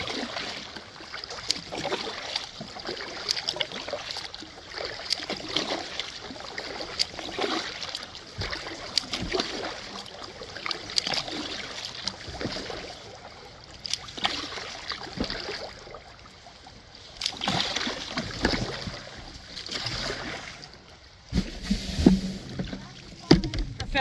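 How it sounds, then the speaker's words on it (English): A canoe is hauled out of a river at a portage landing by Big Shoals, bumping and scraping with splashes and trickling water, close by and continuous, with outdoor ambience and brief speech. "I just pulled my boat out"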